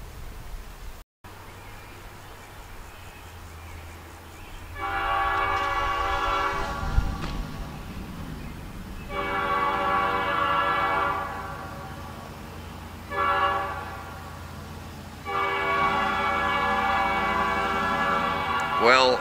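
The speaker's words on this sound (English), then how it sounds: "if I'm going by the sound of the horn alone, it sounds like ELS 501." A freight train horn, likely locomotive ELS 501, blasts in several long sounds separated by short pauses, loud and fairly close, over the rumble of passing rail cars.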